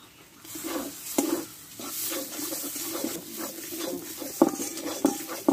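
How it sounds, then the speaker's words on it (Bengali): Potato filling seasoned with turmeric, salt and roasted spice mix being stirred and scraped in a pan, with a soft sizzle and repeated spatula strokes that stay close and fairly quiet. "দিয়ে আলুটা ভালোভাবে একটু কষতে থাকবো"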